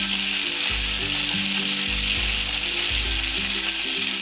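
Curry leaves, ginger and garlic frying in hot oil for a Kerala sardine curry, a loud, dense, constant sizzle and spatter close by, with occasional stirring scrapes underneath.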